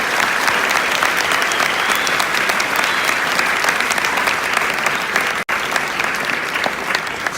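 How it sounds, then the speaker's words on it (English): Loud, dense audience applause at a high school JROTC Veterans Day ceremony, a continuous wash of many hands clapping close by with no break. "So give them a round of applause,"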